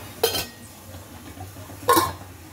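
Two sharp metallic clinks a second and a half apart as a lid is set over a tea pot on a gas stove, each ringing briefly against quiet kitchen background.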